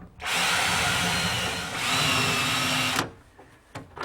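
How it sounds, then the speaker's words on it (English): A power drill whines loudly and steadily for about three seconds, boring into wood, then cuts off, leaving a few faint knocks and handling sounds. "lock it in place with a pin, and drill a series of holes"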